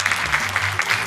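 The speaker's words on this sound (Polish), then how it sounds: "raz jeszcze wielkie brawa" Applause from an audience at a prize ceremony where a winner receives a 10,000-złoty cheque, a steady clatter of clapping that runs without a break for just over a second, with a low murmur underneath.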